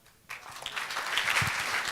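Applause from a union general assembly audience starts abruptly and swells into steady, dense clapping from many people, moderately loud and unbroken by talk.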